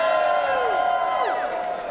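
Energetic rally crowd on a cold day at the state capitol in Springfield, cheering and whooping steadily throughout with whistle-like shouts rising and falling, a dense roar of many voices close by.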